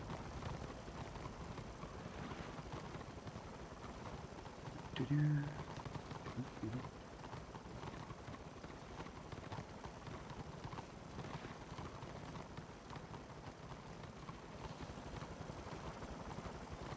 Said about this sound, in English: And horses are so noisy.